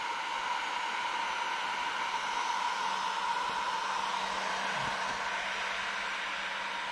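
A heat gun set to maximum temperature, around 1200 degrees, blows with a steady, even hiss like a hair dryer, constant and close with a faint low hum beneath.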